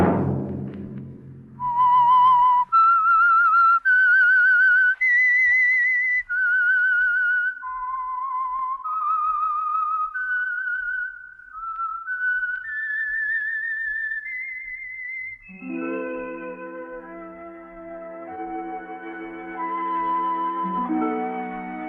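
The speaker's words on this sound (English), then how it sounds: "Let that whistle be your signal for the Signal Oil program, The Whistler." The whistled theme signal of the old radio drama The Whistler: a lone, clear whistled melody rising and falling over about fifteen seconds, then giving way to sustained instrumental chords.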